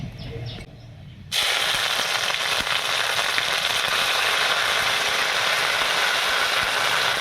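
Ginger paste dropped into hot oil in a pan while cooking a vegetarian cabbage and chickpea dish. After a moment of quiet, a loud, steady, crackling sizzle starts up close and keeps going without a break.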